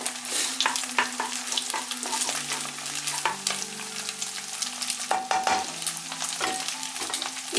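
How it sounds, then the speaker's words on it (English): Egg and garlic stir-fry over high heat in a Chinese wok, with steady sizzling and frying broken by scraping and stirring strokes throughout. No one speaks. "It can be done on high heat because we constantly keep it stirring."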